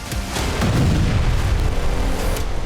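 A loud, deep explosive boom in the Kovalivka area of Luhansk rolls out and rumbles on, filling the whole short stretch with heavy low-end noise.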